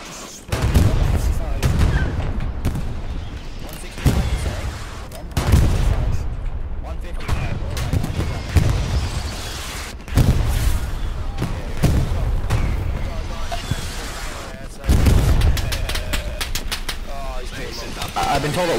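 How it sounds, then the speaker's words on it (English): Tanks trade cannon fire during a Hell Let Loose community battle on the Stalingrad map. Heavy booms land every few seconds, some near and some farther off, with voices talking in between. "tanks are going at it now"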